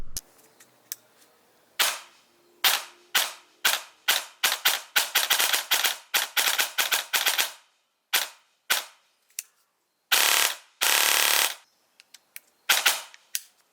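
An airsoft rifle fires in a shooting test: sharp, loud snapping shots come singly, in quick clusters and in two brief full-auto bursts, separated by silent pauses.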